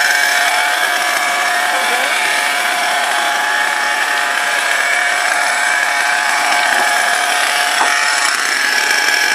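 An RC model car's small engine whines loudly and continuously at a high, buzzing pitch, holding steady throughout with no pauses.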